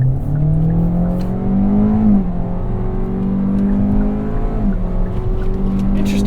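A 2023 Kia Soul accelerating hard in sport mode with traction control off, its engine drone rising steadily and dropping twice as the transmission makes clear shifts, loud and close throughout.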